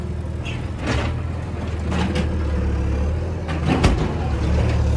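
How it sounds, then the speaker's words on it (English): A backhoe tearing down an old tin-sided barn shed, its engine rumbling steadily close by while metal panels scrape and bang in a few sharper bursts. "That's our main man, Rob, there in the backhoe, and he's getting her took down."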